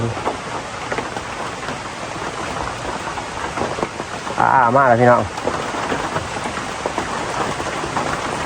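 Steady rain pours down over a night fishing spot with fish traps in Laos, a dense hiss throughout with possible thunder rumbling low; someone speaks briefly partway through.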